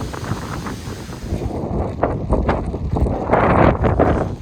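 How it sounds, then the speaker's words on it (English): Strong wind buffets the microphone across an open field, a rough continuous rumble that gusts louder toward the end, with no talking. "Woo, it's windy."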